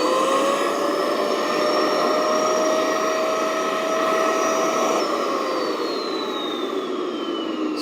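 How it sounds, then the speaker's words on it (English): A vacuum cleaner runs steadily and loudly, close by, during assembly of a BVM 1/5 scale F-16 RC jet, its constant whine shifting pitch slightly partway through with no talking. "we're going to turn our vacuum on."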